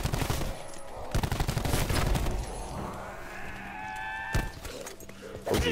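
An ICR assault rifle fires in Call of Duty Black Ops 4 Zombies, with rapid bursts of shots over dense game noise and bleating creature cries, fairly loud and close.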